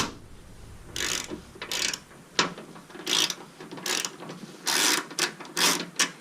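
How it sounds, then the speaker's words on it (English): A ratchet wrench loosens a bolt on a Gen5 Toyota 4Runner during a ditch light install, giving short irregular clicking bursts up close, quiet between strokes, with no talking. "we'll loosen up this second bolt"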